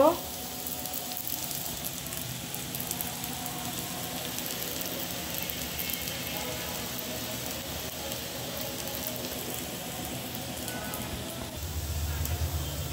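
Vegetable bhaji frying in a pan, a continuous close sizzle and crackle of hot oil that holds steady throughout, with a slightly heavier rumble near the end.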